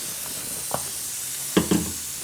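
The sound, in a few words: oil heating in a pan before frying brinjal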